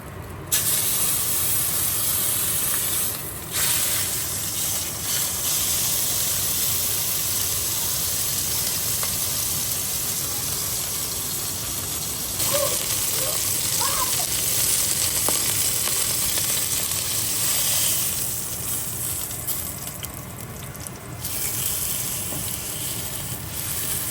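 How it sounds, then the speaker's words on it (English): Venison backstrap sears in a pan over high heat, giving a loud, continuous hiss and sizzle for the whole stretch, with slight swells and small spatters and no speech. "Just going around the edges here, just giving a quick sear all the way around."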